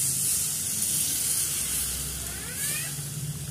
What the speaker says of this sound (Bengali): তো এখানে আমি জল দিয়ে দেবো